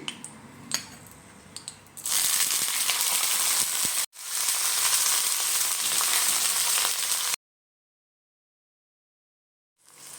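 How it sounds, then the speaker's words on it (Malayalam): Dried raisins dropped into hot melted ghee sizzle and fry steadily for several seconds, with a brief clink and quiet stirring before the sizzle starts and a short break in the middle. "ഞാനിതാ മുന്തിരി ഞാനിതിലിടുകയാണ് ഉണക്ക മുന്തിരി"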